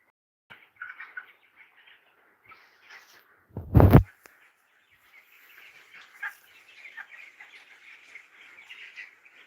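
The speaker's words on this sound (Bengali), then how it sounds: "অনেকগুলো মুরগি আছে এখানে" Around two thousand chickens on a poultry farm cluck and chirp in a steady, busy chorus, broken by one loud thump partway through.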